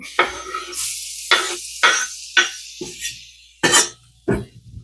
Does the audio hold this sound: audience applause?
no